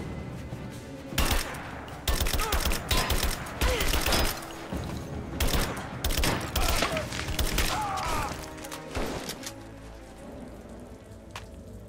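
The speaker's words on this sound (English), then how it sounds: "Give me suppressing fire!" Gunfire in the Rise of the Tomb Raider video game: dense bursts of loud, close shots and clattering impacts run for about eight seconds, then fade into a quieter tail.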